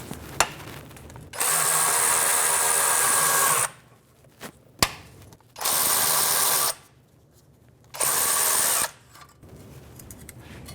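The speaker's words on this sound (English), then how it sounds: "15mm socket, and we're just going to back those right off." Three bursts of a power tool backing out 15mm bolts on a 1997-2006 Jeep Wrangler 2.4L, each whir lasting about two seconds with short pauses and small clicks of the socket between them, loud and close.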